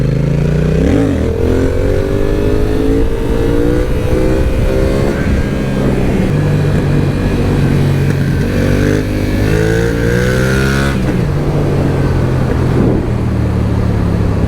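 A Yamaha MT-07 motorcycle engine revs up and down repeatedly, loud and close, with rising and falling pitch sweeps and a steady rumbling idle between blips, no talk over it.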